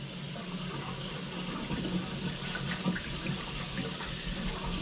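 Water runs steadily from a cold tap into a sink, a continuous close hiss and splash with no talking over it.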